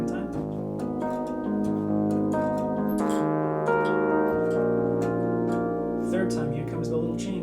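Solo piano plays the chord progression of a song, sustained chords changing every second or so with ringing overtones, clear and close with no talking.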